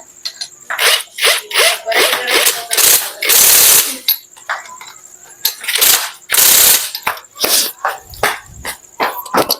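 Ratchet wrench tightening a 10mm bolt during assembly of a Kawasaki Fury 125 motorcycle engine: loud, close, repeated clicking strokes in uneven bursts, with longer harsh rasping pulls between them.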